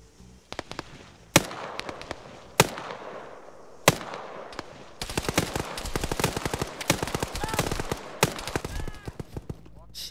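Rapid sharp gunshots and explosive blasts from a first-person video game, coming in a scattered opening volley and then a dense, sustained burst of fire toward the end, with faint background noise between the bursts.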